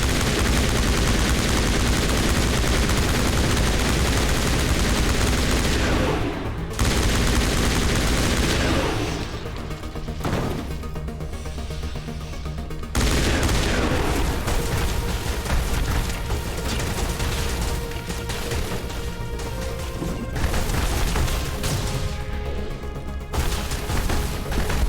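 Heavy sustained gunfire from a Mass Effect firefight, loud and dense, with near-continuous bursts and booms that break off briefly before resuming.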